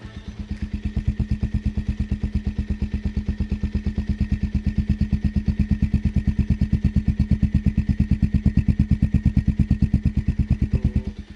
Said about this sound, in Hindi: अगर मैं आपको साइलेंसर की आवाज़ सुनाऊं तो this is also quite pleasing.